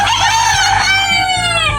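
A rooster crows loudly and close by, one long drawn-out call with a rising and falling pitch.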